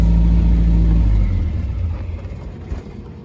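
A 1955 Triumph TR3 roadster engine idles with a loud, steady low rumble that eases off after about a second into a quieter, uneven running note, with no voices over it.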